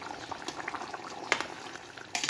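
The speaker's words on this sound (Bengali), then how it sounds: "তারপর ঝোলটা 2 মিনিট ফুটলেই হয়ে গেল।" Chicken curry gravy simmers in a pot with soft irregular bubbling and popping, a few sharper blips and a brief louder burst near the end, close and fairly quiet, with no talking.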